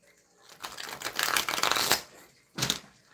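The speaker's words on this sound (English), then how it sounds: "I'll try to shuffle a whole bunch, but there's a lot." A large deck of playing cards being riffle-shuffled, a long dense flutter of cards followed by a second short burst, close and fairly quiet with no talking.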